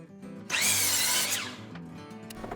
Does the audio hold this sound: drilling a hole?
yes